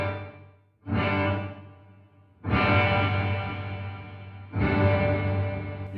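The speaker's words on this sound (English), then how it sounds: "You can hear that adds a lot to it, and it adds a certain echo." A guitar played through the Headrush Bright Hall reverb effect, three sustained distorted chords swelling in and trailing into a long, echoing wash with a delay tail, loud and alone.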